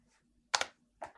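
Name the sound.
typing on a computer keyboard and pressing enter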